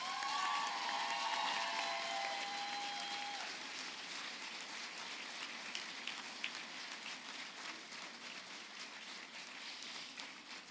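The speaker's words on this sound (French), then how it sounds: "On les applaudit, s'il vous plaît." Audience applause at a university graduation ceremony in Saint-Jérôme, a steady wash of many hands clapping throughout with no voices, starting full and easing slightly toward the end.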